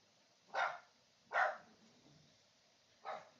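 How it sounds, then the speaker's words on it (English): A pet dog named Piper barks three times, short sharp yelps spaced about a second apart, in the background of a room during storm coverage, moderately distant with no talk over it. "if y'all hear barking, that's my dog. Piper."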